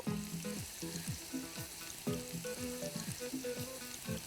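Chopped onion and cloves fry in hot oil in a pan for chicken tikka pulao, giving a steady close crackling sizzle with rhythmic scraping stirs throughout.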